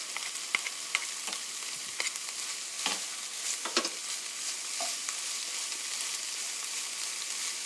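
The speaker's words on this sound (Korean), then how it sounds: "채소가 노릇노릇하게 될 때까지 볶아주세요. stir fry 5 minutes" Beef and vegetables stir-fry in a pan with a soft, continuous sizzle, broken by occasional clicks and scrapes of stirring. No one speaks.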